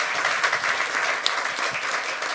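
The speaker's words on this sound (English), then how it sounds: "And please applaud that." Audience applause at the 2024 Global Inclusive Growth Summit in Washington D.C., steady dense clapping from a large crowd, heard close and moderately loud for the whole stretch.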